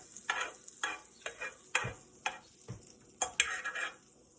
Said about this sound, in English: Put it on the pan, and it should sizzle.